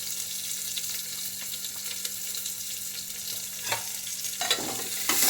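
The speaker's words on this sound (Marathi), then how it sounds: "कांदा ही छान परतत आहे" Finely chopped onion fries with curry leaves in a hot pan for Solapuri masala rice, giving a steady close sizzle with occasional stirring scrapes and clinks.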